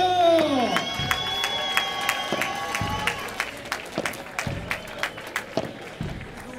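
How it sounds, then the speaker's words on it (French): Spectators at a padel tournament cheer and clap as a musical jingle plays over them, then scattered rhythmic claps continue with faint crowd voices in the background. "Est-ce qu'on peut faire un tonnerre d'applaudissements?"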